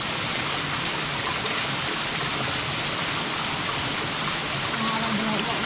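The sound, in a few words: water flowing at a small waterfall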